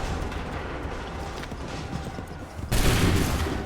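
A volley of musket fire in an Assassin's Creed 3 Remastered battle from the American Revolution, a dense crackling burst of shots that surges loudly near the end, with no clear talk over it.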